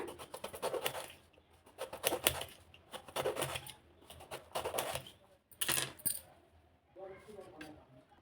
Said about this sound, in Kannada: ಬೀಜ ತೆಕ್ಕೋಬೇಕು ಥರ ಎಲ್ಲನೂ ಈ ಥರ ಕಟ್ ಮಾಡಿ ಇಟ್ಕೊಳ್ಳೋಣ